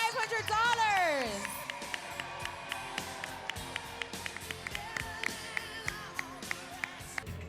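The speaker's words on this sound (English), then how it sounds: "Let's give a huge round of applause to Esty" An audience claps and cheers for the winner of a Miami dessert competition, starting with a loud burst of whoops and a rising voice, then settling into steady rhythmic clapping.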